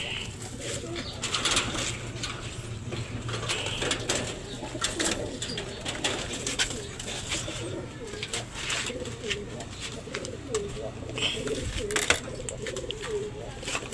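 Pigeons coo repeatedly in low, throaty calls close by, over a busy background of rustling and faint chirps.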